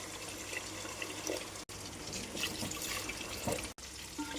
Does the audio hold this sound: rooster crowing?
no